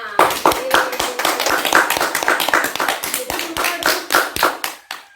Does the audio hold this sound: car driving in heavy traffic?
no